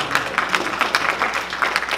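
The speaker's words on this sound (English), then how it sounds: "That's a hand clap right" Audience hand clapping at a community gathering in Trenton, a steady patter of many hands with small bursts of louder claps, moderately close and with no talk over it.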